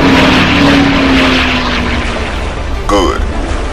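A fixed-wing propeller aircraft in the Iron Wings video game flies with a loud, steady engine drone throughout, and a short sweeping whoosh passes near the end.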